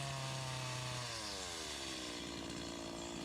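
A chainsaw bar cuts into wood to carve out the front of a nose on a sculpture, a steady loud buzzing whine whose pitch slides and drops as the cut deepens, with no talking.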